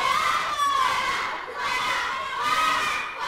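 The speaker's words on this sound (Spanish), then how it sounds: "ahí el grito de clarinete y se lleva el abucheo." A crowd at a lucha libre show in a gymnasium boos a wrestler, a loud, sustained roar of jeers and shouts that swells and dips over a few seconds.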